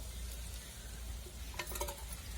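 Grated coconut frying in oil beside sautéed onion for a potato curry, a soft steady sizzle with a few sharper crackles and stirring scrapes near the end, fairly quiet and with no talking.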